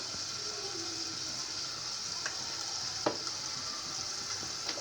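Chili and coriander powder frying in a pan, a steady soft sizzle throughout with a few faint ticks of stirring, fairly quiet and close, no voices.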